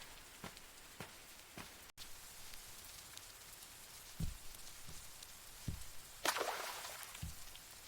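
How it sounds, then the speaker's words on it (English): Scattered raindrops fall from tree leaves onto soil, a few soft distinct plops spaced irregularly over a faint hiss of light rain, with one brief louder splash near the end. "Each drop slid slowly from leaf to leaf, making a quiet rhythm against the soil below."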